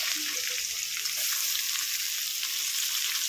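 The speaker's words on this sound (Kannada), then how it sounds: "ಇವಾಗ ನಾನು ಈರುಳ್ಳಿ ಹಾಕ್ಕೊಳ್ತಾ ಇದ್ದೀನಿ" Onions frying in a pan for a sour raw-mango chitranna rice dish, a steady bright sizzle with no talk, constant and close throughout.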